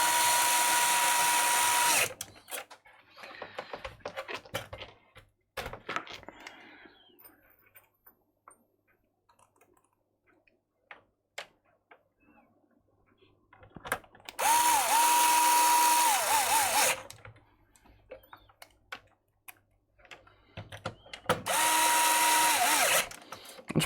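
Power drill driving screws back in, several bursts of whirring motor a few seconds each with clicking clutch ratchet, separated by quieter handling clicks and taps, close up.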